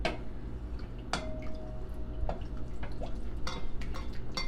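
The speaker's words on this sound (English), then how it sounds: "you're gonna keep mixing this, and then you're gonna add 2 cups of flour" Homemade bread dough is stirred as flour is added, producing soft, wet squishing and dripping sounds with a few sharp knocks of the spoon against the bowl, close and continuous.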